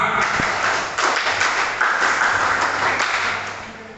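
Scout-style rhythmic group clapping (tepuk pramuka) by students at a gathering, loud and dense bursts of many hands in patterned beats that continue for the whole span, with a few voices mixed in.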